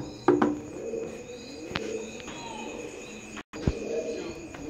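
A pair of Teddy 128 pigeons of Oman bloodline coo softly nearby in a few low, throaty calls, with a couple of sharper clicks and faint insect chirring behind.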